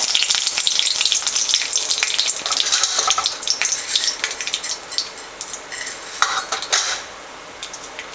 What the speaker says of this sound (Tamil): இப்போ வந்து இதில் கடுகு போட்டுடலாம். கடுகு போட்டுடலாம். கருவேப்பிலை போட்டுக்கோங்க.